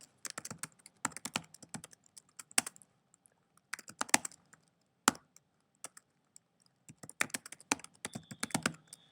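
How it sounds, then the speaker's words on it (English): Notes typed on a computer keyboard in bursts of quick clicky keystrokes separated by short pauses, close and fairly quiet, with no voices. "You type notes here."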